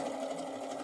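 A sewing machine hums in a brief, steady run as it stitches quilt pieces, close and continuous with no voice over it.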